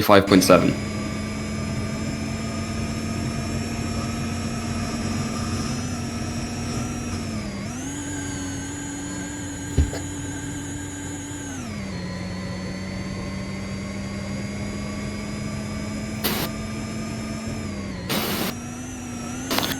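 Formula E car engine in a Roblox racing game at Marrakesh, heard onboard: a steady electric whine with smooth pitch rises and falls as it accelerates and lifts, running continuously with a couple of brief bursts near the end.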